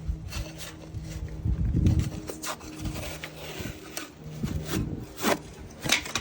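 Paper facing being peeled off a drywall patch, pulling back a 2-inch overlap by hand: close, scratchy tearing and rubbing with a louder ripping burst near the middle and softer scrapes after.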